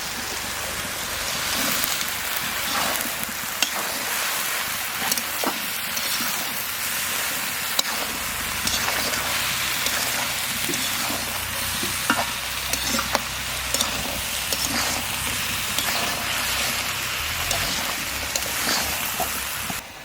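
Soaked chickpeas, red lentils and potatoes frying together in a pan, a dense continuous sizzle with frequent scraping stirs, loud and close, no talking.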